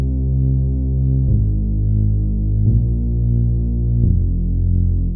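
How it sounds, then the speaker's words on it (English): Deep synth bass patch from Retro Synth in Logic Pro X plays sustained low notes alone, changing pitch about every 1.3 seconds in four even steps with a steady humming tone. "I've got a synth bass track waiting here, which is going to play a patch from Retro Synth, which sounds like this."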